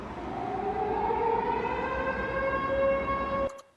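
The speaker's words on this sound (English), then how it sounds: "So this first obvious one is an air raid siren." Air raid siren sound effect: a single long, loud wail whose pitch slowly climbs and holds, sounding alone, then cutting off abruptly just before the end.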